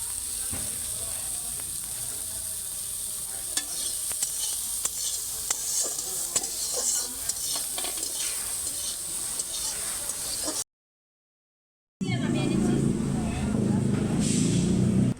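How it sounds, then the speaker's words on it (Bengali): Soybean chunks fry with turmeric powder in a pan, giving a steady close sizzle with stirring scrapes for about ten seconds, then a brief silence before louder, denser sizzling resumes. "সোয়াবিনটা ভেজে নিচ্ছি হলুদ গুঁড়ো"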